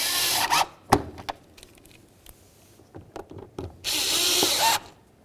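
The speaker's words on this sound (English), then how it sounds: "Now let's get in our 2 lower screws." Cordless power drill driving screws into the interior door panel of a 2007-2017 Ford Expedition during a rear window regulator replacement, with two loud, sustained whirring bursts at the start and end separated by quieter clicks and handling noises.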